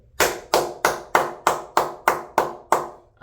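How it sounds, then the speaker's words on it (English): Eight slow, evenly spaced hand claps from a single person, close and loud, each sharp smack ringing briefly before the next, with no talk. "the only person on the entire team that's going to get a round of applause for me"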